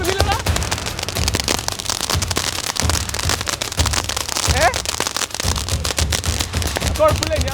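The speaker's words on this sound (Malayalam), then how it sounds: "ഞാൻ മയിലാട്ടത്തിന് തീ കൊടുത്ത്" A mayilattam firecracker lit for the Vishu festival burns with dense, continuous crackling and sputtering, with rising whistling squeals threaded through the bursts and voices nearby.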